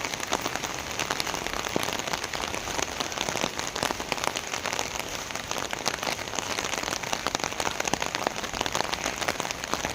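Heavy rain falls outdoors in a dense, steady downpour, loud and close, with a constant crackling patter of drops hitting surfaces throughout.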